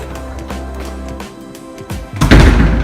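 A door in a luxury apartment's master bedroom slams shut in a draft with a heavy, booming thud near the end, following a stretch of steady low rumbling and faint knocks.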